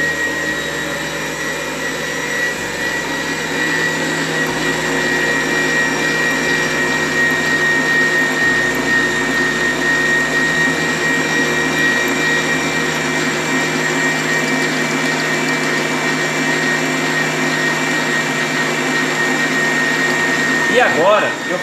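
Electric mixer beating donut dough made with milk and eggs, a steady whirring motor drone running continuously throughout with a slight change in pitch near the end, up close and loud.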